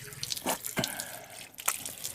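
Water splashing and dripping into a sink as the nose is rinsed during wudu ablution, a few close, uneven splashes and trickles.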